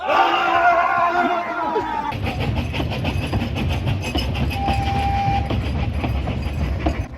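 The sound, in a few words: train passing on railway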